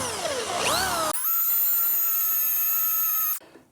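A power drill bores into a 1978 Corvette control arm during restoration, first a rough grinding chatter, then a steady high-pitched whine that holds for about two seconds before cutting off abruptly.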